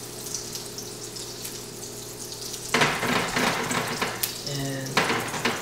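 Waffle batter is scooped onto a hot pan in sections without a waffle iron, setting off a loud, close sizzle that swells sharply as each portion lands, with light scraping and clinks of the scoop.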